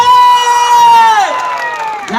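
Loud crowd cheering and whooping at a stage program in Rourkela, one sustained shout gliding downward as the cheering continues steadily throughout.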